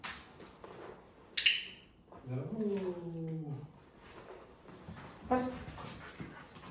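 A dog whimpers and pants during a training session, with a faint snap early on, a drawn-out whine in the middle and a brief yelp near the end, while a man gives commands and praise.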